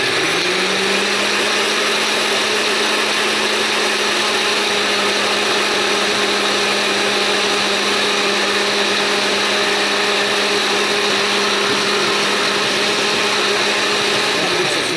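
A blender runs continuously at close range for fifteen seconds, chopping ingredients for a lime cake with a steady high whirring roar and no talk over it.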